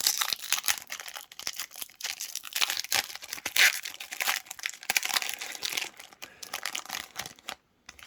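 Continuous crinkling and tearing of a 1996 Topps Star Wars Shadows of the Empire trading card pack wrapper being ripped open close up, busy crackling foil-like rustle for several seconds before stopping abruptly.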